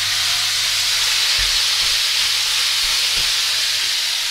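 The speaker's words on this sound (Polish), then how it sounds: "Patelnia nam się rozgrzała, wrzucamy całość." Beef pasta sizzles and fries in a hot pan with a steady loud hiss and occasional low thumps, with no talk over it.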